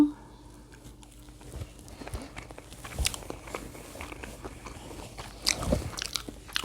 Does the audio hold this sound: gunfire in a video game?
no